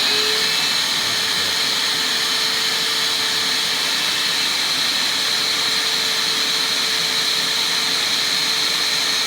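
A Moth Mark II Pro record cleaning machine runs its vacuum motor with a steady, loud whine and roar that holds unchanged throughout, with no voices.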